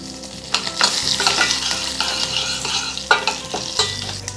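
Black peppercorns and broken dried red chilies fry in hot ghee for a temple-style curd rice tempering, giving a close, crackly sizzle broken by the scrape of stirring, with no voices.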